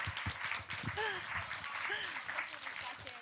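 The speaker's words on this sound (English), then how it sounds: "let's give Sue a round of applause" Audience applause rises under a speaking voice, a steady wash of clapping filling the room.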